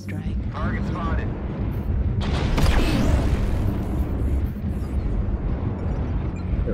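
Airstrike explosions in the MechWarrior Online battle game roll out as a dense, continuous booming rumble, swelling loudest midway through and staying heavy for the whole stretch.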